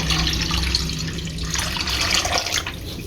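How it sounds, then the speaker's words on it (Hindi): Water pours from a container into a large batch of yogurt for kadhi pakora, making a continuous splashing, gurgling stream that stays close and steady throughout. "तो 1 किलो दही के अंदर 3 लीटर पानी हमने ऐड करना है।"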